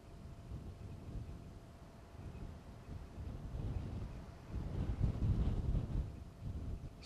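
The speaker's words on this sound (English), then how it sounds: "Hopefully the wind will calm down a bit." Gusty wind rumbling and buffeting the microphone at a campsite in the Kgalagadi, rising and falling in strength with no voices.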